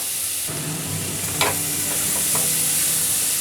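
Amla pickle stirred in a frying pan, with a low steady sizzle and a few distinct scraping clinks of the spoon against the pan, close and alone with no voices.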